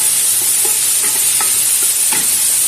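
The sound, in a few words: onions frying and being stirred in a pan for chicken biryani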